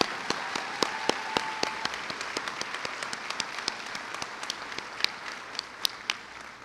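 Thinning applause from a university commencement audience, individual claps standing out as sharp, scattered slaps over a soft wash of clapping, steady and moderately distant.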